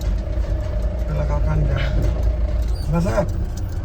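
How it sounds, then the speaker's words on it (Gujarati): A tractor's low engine rumble drones steadily throughout as it approaches on a rough road, with rattling and a brief rising whine, mixed with someone talking nearby. "સામે જે ટ્રેક્ટર આવે છે એટલે ગાડી સાઈડમાં મૂકી દીધું"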